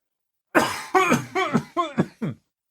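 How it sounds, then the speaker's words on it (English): A run of about six short, close coughs follows in quick succession, loud and harsh, with no talking around them. "I need to cough"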